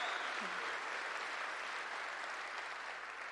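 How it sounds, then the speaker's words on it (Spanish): An audience at the CitizenCon Star Citizen event claps for the developers in a dense, sustained round of applause that fades slightly toward the end. "Big cheer for all of the devs who did the panels today."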